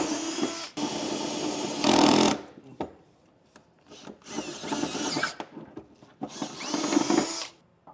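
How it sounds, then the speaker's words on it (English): A power drill enlarges holes in a truck bed during installation of above-bed base rails for a Demco Premier Series fifth wheel hitch, running in several loud close bursts separated by short pauses. "So go ahead, you can drill that out."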